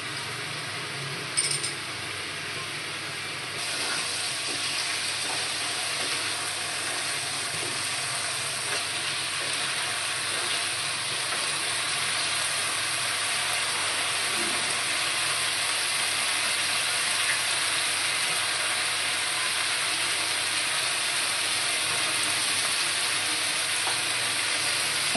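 Ginger and spice paste frying in oil for a Bengali bhetki fish curry, with a steady bright sizzle and an occasional stir or clink, continuous and close.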